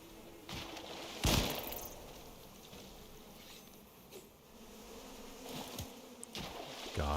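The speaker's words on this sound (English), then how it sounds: "Bees." Buzzing bees in the survival video game Icarus, a steady droning hum close by with a few brief louder bursts, no talk over it.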